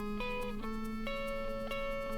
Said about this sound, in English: that's an accordion